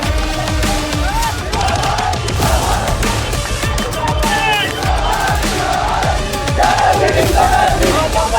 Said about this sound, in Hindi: भीड़ लगी हुई है पूरी की पूरी।